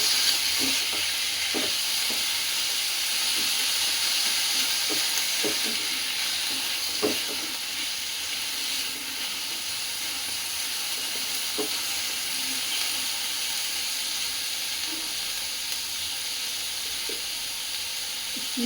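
Chicken pieces frying in a pan with onion and spices sizzle in a loud, steady hiss, punctuated by irregular clicks and scrapes of stirring, close up, with no talk.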